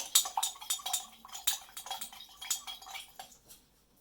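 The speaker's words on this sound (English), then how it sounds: "Give it another stir." A spoon clinks rapidly and rhythmically against the inside of a glass, stirring a Borax solution for a few seconds before slowing and fading out.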